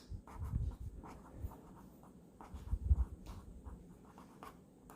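A pen or pencil works out a math problem on paper, making soft close scratches and strokes in irregular bursts, with a few heavier taps and pauses between written marks.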